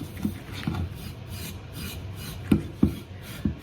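Scrubbing strokes work paint stripper residue off a wooden side table, a rough rasping rub repeated in uneven bursts, with sharper, louder swipes near the end.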